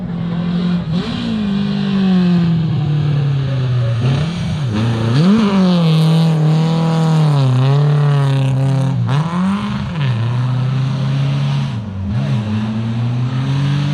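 A Nissan 240 RS Group B rally car engine, a 2.3-litre four-cylinder, revs hard and repeatedly at a rally festival, rising and falling in pitch through gear changes, loud and close, with no voices.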